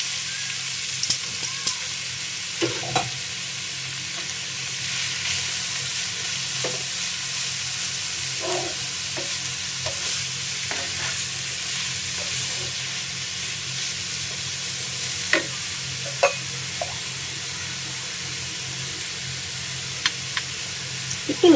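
Papaya frying in a pan, a steady close sizzle and hiss throughout, with occasional light scrapes and taps of a spoon stirring.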